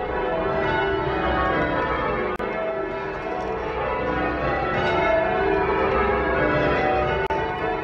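Church tower bells change ringing rounds in an American bell tower, the strikes ragged and out of rhythm, a dense continuous wash of overlapping clangs ringing steadily throughout.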